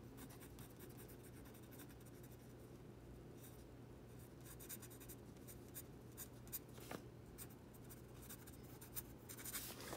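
A Zebra V-301 fountain pen nib writing on paper makes a faint, continuous dry scratching with soft irregular strokes, heard alone in a quiet room.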